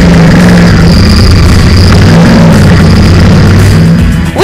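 A Royal Enfield Interceptor 650 with its 650cc parallel-twin engine runs loud and close, a steady, throaty drone that stays strong to the end, with no speech.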